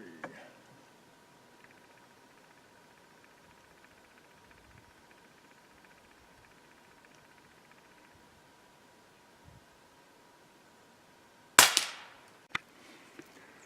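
A single sharp, loud crack from a .22 caliber rifle fired during a target grouping test follows a long, quiet stretch of faint outdoor hiss. Brief, fainter clicks come after it.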